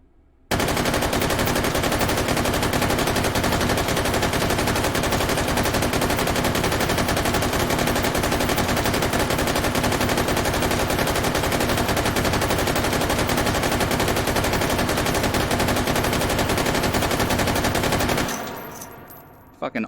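Sustained automatic fire from a belt-fed 5.56 machine gun shot from the hip in the VR shooter H3VR, one loud unbroken burst lasting about seventeen seconds before cutting off abruptly.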